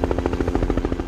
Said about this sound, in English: we have used helicopter sounds when we see that mountain